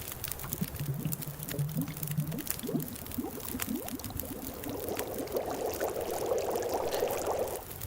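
In the survival game The Long Dark, water is poured into a vessel while making water. It starts as low gurgling splashes, then turns into a steadier, brighter trickling stream, moderately loud and alone.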